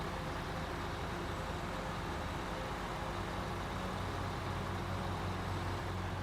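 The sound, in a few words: truck engine running, from video game SnowRunner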